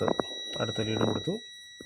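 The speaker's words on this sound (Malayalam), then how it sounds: "ബീപ്പ് സൗണ്ടാണ്, റെസിസ്റ്റൻസ് ഒന്നുമില്ല." A multimeter continuity beep sounds while a test lead is checked in electrical fault diagnosis; the steady tone runs under a man's nearby speech throughout.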